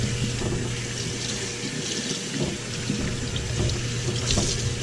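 A kitchen faucet runs steadily and loudly while a ham is washed by hand under the stream. The water hiss is continuous and close, with faint splashes and rubbing mixed in, and nobody talks.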